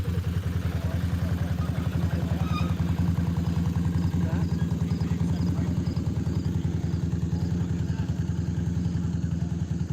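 A supercharged big-block engine with a 1471 blower rumbles steadily and loudly at an off-road mud racing event, a continuous low throb with a rapid pulsing beat throughout, with some faint voices in the background.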